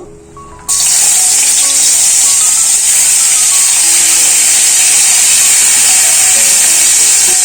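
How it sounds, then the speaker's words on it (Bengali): Chopped onion and tomato drop into hot mustard oil with a pinch of sugar in a pan. A loud, steady sizzle bursts in at once and holds unbroken, close and hissing, with no voices. "তেলটা গরম হয়ে গেছে অল্প একটু চিনি দেব তেলের মধ্যে কেটে রাখা পেঁয়াজ টমেটো দিয়ে দেবো"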